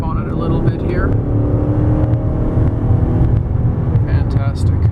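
2006 Chrysler 300C with a 5.7L Hemi V8 under hard acceleration, a loud continuous engine drone and road roar heard from inside the cabin, with someone talking over it.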